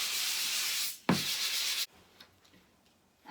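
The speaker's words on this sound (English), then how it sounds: "I am sanding over the backs of the holes as well" Hand sanding of wood with sandpaper while making a padded headboard, two steady rasping strokes close up, the second briefer, followed by quiet faint scraping.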